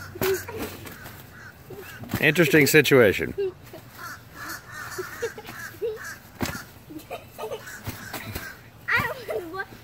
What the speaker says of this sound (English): the crows are gathering in the trees and heckling